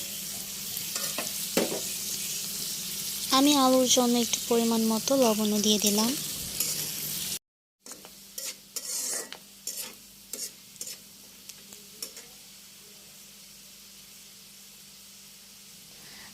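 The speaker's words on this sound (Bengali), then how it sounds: "আমি আলুটাকে ভাজা ভাজা করে নিয়েছি" Potatoes fry in oil left from frying eggs, for a winter-vegetable chow mein. A constant sizzle runs under a woman's speech, then after a brief cut come scattered spatula scrapes and stirring knocks over a quieter hiss.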